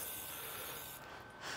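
Cooking oil sprayed onto a grill grate before grilling chicken: a steady close hiss running about a second, then cutting off briefly before resuming.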